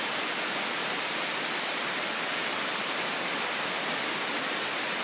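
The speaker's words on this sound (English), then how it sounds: "this is the waterfalls up at El Valle." El Macho Chorro waterfall in the rainforest near El Valle de Antón, Panama, gives a steady, loud, broadband rush of falling water, unbroken and alone for the whole stretch.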